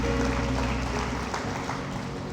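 Applause from a church congregation during a sermon: a dense, steady wash of clapping that fills the whole stretch with a faint tonal hum beneath it.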